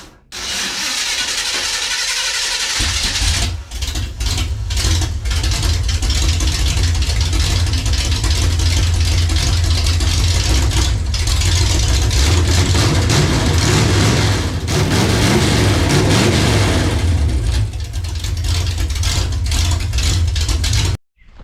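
A rebuilt engine in a 1978 Chevrolet Malibu sedan cranks and starts after a short pause, then runs loudly with a low rumble and rises in revs before cutting off abruptly.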